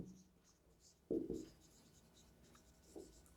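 Chalk or marker writing on a board during a physics lecture, a short scratchy burst of strokes followed by a fainter stroke later, close and fairly quiet with faint room noise.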